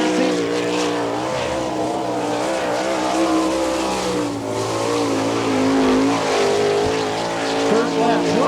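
A 410 sprint car with a Stealth chassis runs a qualifying lap at Attica, Ohio, its engine wailing loudly and rising and falling through the turns while an announcer talks over the racing.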